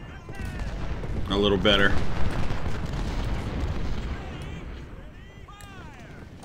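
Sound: artillery fire hitting enemy in video game Ultimate General: Civil War

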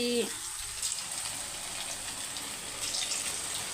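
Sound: chicken 65 frying in hot oil

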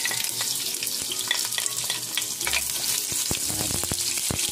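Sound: onions frying for beef menudo

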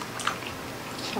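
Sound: chewing a bite of menudo

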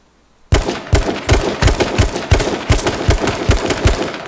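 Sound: gunshots from the video game H1Z1

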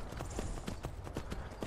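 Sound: horse hooves clip-clopping in Skyrim VR video game

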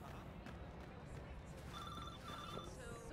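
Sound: phone ringing in Watch Dogs 2 video game

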